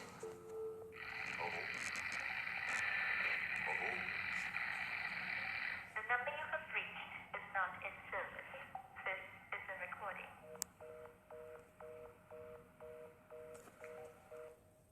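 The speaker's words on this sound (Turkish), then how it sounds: "Telefon çalıyor." A telephone rings inside a horror video game, a steady electronic trill for several seconds followed by a pulsing ring pattern with tonal beeps, loud and close, with some tense game music underneath.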